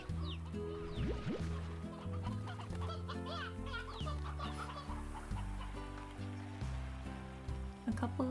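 Hens clucking in the farming game Slime Rancher, a steady busy chatter of fowl calls layered over continuous game music throughout, no speech.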